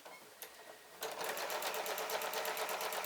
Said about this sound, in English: I am just going to sew down this seam